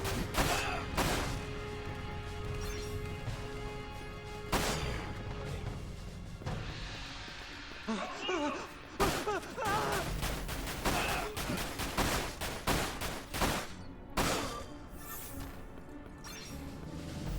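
Gunfire from the video game Dirge of Cerberus: Final Fantasy VII crackles in bursts, sharp shots and rapid volleys mixed with crashes and impacts over background game music.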